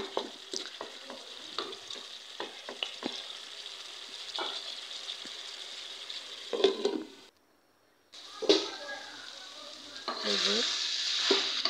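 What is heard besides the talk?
bitter gourd (karela) frying in a pan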